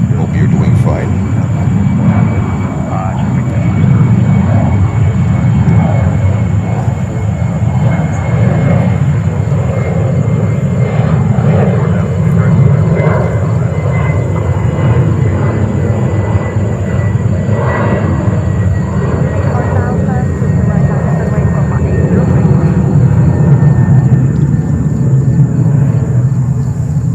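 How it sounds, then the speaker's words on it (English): A JetBlue Airbus A320 roars steadily at JFK Airport in New York, a loud continuous jet rumble and whine lasting the whole stretch, with a voice talking over it at times. "And this is another JetBlue 320."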